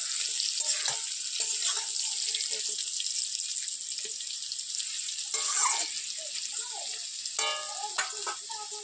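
Food fries in a pan with a steady close sizzle, broken by occasional stirring scrapes and utensil knocks.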